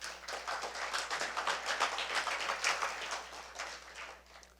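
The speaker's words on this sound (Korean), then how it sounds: "부시장께도 박수 한번 보내주십시오" A live lecture audience claps for Busan's deputy mayor, a steady field of many hands patting together for several seconds at moderate loudness, with no talk over it.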